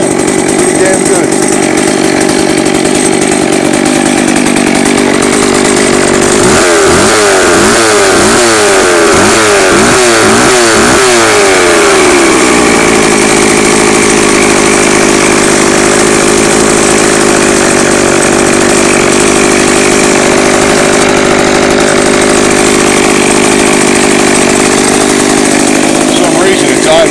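McCulloch chainsaw running after a cold start on a chilly day, a loud, steady high idle that holds throughout, with a brief wavering, pulsing stretch partway through and a person speaking over the engine.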